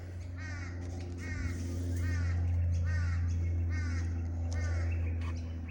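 A wild bird, crow-like, caws repeatedly in a steady series of harsh, rasping calls, fairly close, over a constant low hum.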